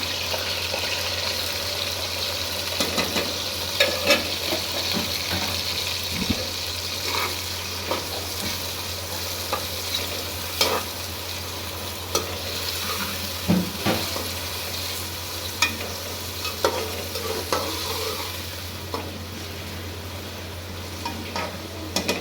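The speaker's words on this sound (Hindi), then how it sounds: "अभी ये फ्राई होना स्टार्ट हो गए हैं" Washed food frying in a pan, a loud, continuous close sizzle with crackles and occasional clinks of a utensil stirring against the pan throughout.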